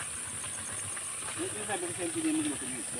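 Steam hisses constantly from a sulfuric hot spring at Mambukal in Negros Occidental, a steady high-pitched hiss. Voices murmur briefly underneath it.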